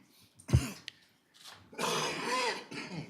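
A short cough is followed by a rough, drawn-out bout of hacking and throat clearing, close but fairly quiet.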